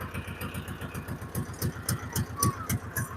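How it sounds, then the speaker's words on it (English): A chugging engine idles steadily, its rapid low thumps pulsing evenly throughout, close and fairly loud. "We're going to shut this noisy tractor off."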